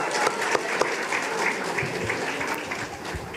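An audience at a school French spelling bee, expo and fashion show applauds, a moderate sustained patter of clapping from a mid-sized crowd with a few louder individual claps.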